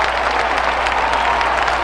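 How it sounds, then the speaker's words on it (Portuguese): Congregation at a religious talk breaks into a brief, steady round of applause, dense massed clapping held at an even level for under two seconds. "Uma salva de palmas para essa família especial."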